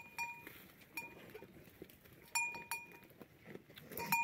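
Herd of goats with bells on a Spanish hillside, scattered metallic bell clinks ringing out intermittently near and far over quiet rustling.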